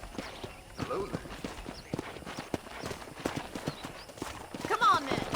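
Horse hooves clip-clop in a steady rhythm with a brief neigh near the end, on a ranch property in the Western video game Red Dead Redemption, under ongoing character dialogue and background game audio.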